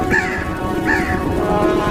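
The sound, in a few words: crow cawing, story sound effect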